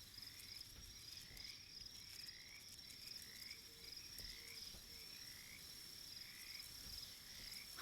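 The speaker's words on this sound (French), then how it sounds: "Ah, les petites grenouilles là." Frogs croaking at nightfall in the video game Kingdom Two Crowns, Norselands setting: faint, evenly repeated croaks pulsing in a steady rhythm over a soft bed of chirping crickets.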